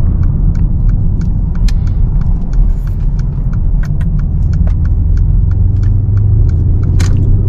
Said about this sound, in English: I like the exhaust rumble.